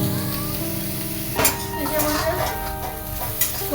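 Soybeans fry and get stirred in oil in a kadai, giving a steady sizzle with scraping stir strokes that come through louder and sharper at intervals, close by.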